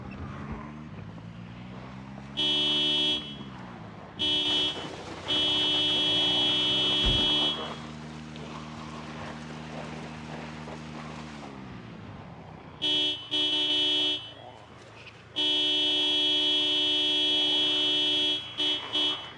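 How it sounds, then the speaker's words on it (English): Car horn in the zombie survival game Project Zomboid honking in repeated blasts, some short and some held for a few seconds, loud over a low engine rumble with quiet gaps between. "One's honking over this way."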